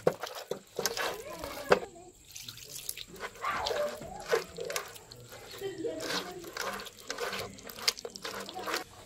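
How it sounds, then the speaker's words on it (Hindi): Wet squishing and sloshing as soaked tamarind pulp is squeezed by hand in water, with irregular splashes and drips close by. "थोड़ा थोड़ा पानी डाल के पल्प जो है वो अच्छी तरह निकाल लेंगे।"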